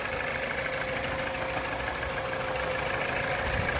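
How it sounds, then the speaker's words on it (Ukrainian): A 2013 Mini Cooper 1.6 petrol engine idles at low revs, a constant mid-pitched hum with a faint whine on top, no voices. "Чуєте, двигун хорошо робить."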